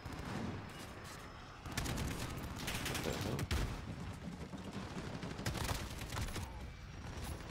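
Call of Duty Modern Warfare multiplayer gunfire crackles in rapid volleys, with dense automatic bursts and a few sharper cracks over a steady battle din, moderately loud throughout.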